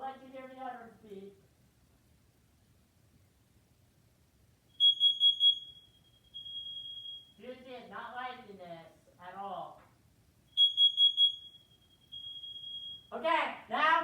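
A smoke alarm sounds during a full annual test, two bursts of loud triple beeps followed by a long high-pitched tone, each separated by quiet, with someone speaking between and after them.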